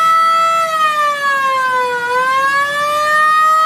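A loud, steady whine whose pitch slowly falls, then rises again, sounding like an old wailing siren; power steering pump whine on an Acura RSX Type S.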